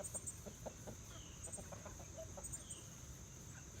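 Chickens cluck softly at a farm at breakfast time, faint, scattered calls over a low background hum with a steady high-pitched whine.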